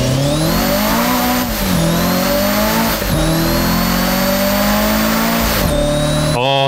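Continuous high-revving car engine in the drift racing game Japanese Drift Master, loud and sustained with rising and falling pitch through gear changes and a brief shift near the end, no talking.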